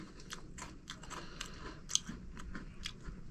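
Crisp crunching bites and chewing of a Nutella Biscuit, a series of sharp crackly snaps close to the ear with a louder crunch midway, no voices.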